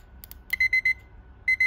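A Citizen Eco-Drive desk clock alarm rings with sharp, high electronic beeps in short repeated bursts, clear and close over a quiet background.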